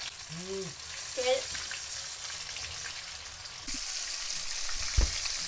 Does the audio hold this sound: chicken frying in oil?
yes